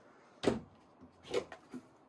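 Cabinet doors in the interior of a 2023 Entegra Odyssey 27U motorhome knock and click shut, a few soft separate thuds spaced over two seconds, quiet and close.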